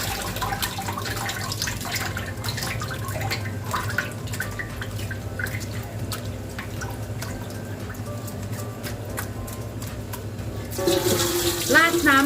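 Clean water poured over pork liver in a basket during rinsing, a steady close splashing stream with drips and trickles, swelling to a louder gush near the end, with a voice speaking over it.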